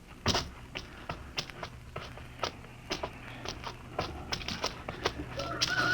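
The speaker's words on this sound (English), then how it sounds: "I could swear that sounded like a rooster." Rooster clucking in a radio drama sound effect, a run of short sharp close calls in an irregular rhythm over a faint low hum, no voices.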